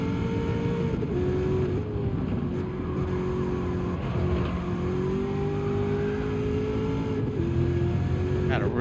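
Ford Mustang engine racing in Gran Turismo 7, a steady droning engine note with gear shifts and rising revs, running continuously at moderate loudness while someone talks over it.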